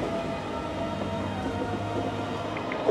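A metro train moving off, giving a steady rolling rumble of wheels and carriages with a continuous low hum and no voices.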